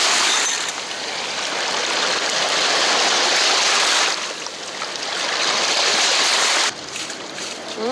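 A mudlarking find, an old seed pod with a hole in it, being rinsed in Thames river water, giving a steady loud splashing wash that eases briefly midway and then stops abruptly.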